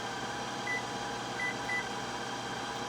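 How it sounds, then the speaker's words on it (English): A kitchen timer gives a few short, faint electronic beeps as it is set, over a steady background hum from a blender running in a home kitchen. "I'm going to put my timer on 5 minutes"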